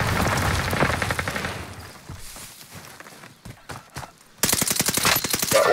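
Call of Duty Warzone Rebirth quads match with rapid bursts of automatic gunfire, loud and close at first, then thinning to scattered shots before a dense burst returns.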